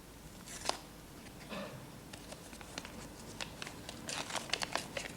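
A paper envelope is torn open at a televised sports awards ceremony. Faint crinkling and ripping tears build in short irregular bursts toward the end, set against quiet room ambience.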